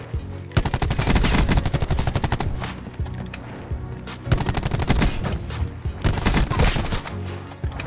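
Rapid automatic gunfire in a shooter video game, loud dense bursts that run almost without pause, brief breaks between volleys, no voice over the shots.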